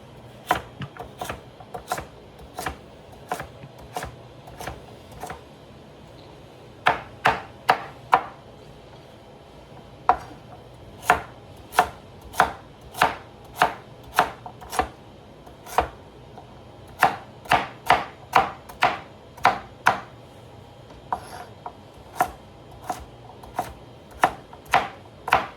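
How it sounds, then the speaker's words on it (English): Sharp knife strikes a cutting board again and again while carrots are sliced for pickles, coming in steady bursts of crisp close chops with short pauses between runs. "I'm gonna cut my carrots"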